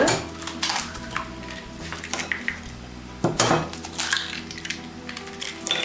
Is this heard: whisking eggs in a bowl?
yes